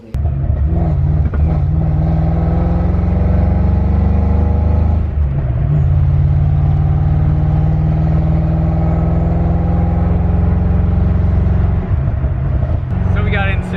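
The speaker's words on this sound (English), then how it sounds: "So now we're gonna take a test drive, make sure it's running right" A Ford Mustang engine runs on a test drive, a loud steady rumble from inside the car with a rise in revs near the start, a dip around five seconds and another shift near the end.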